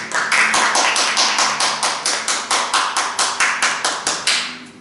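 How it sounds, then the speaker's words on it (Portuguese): A church congregation clapping together for the Lord, in about twenty even, rhythmic claps that are loud and close and keep a steady beat without any voices. "Vamos aplaudir o Senhor"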